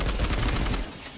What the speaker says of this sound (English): It's an automatic with pretty decent recoil.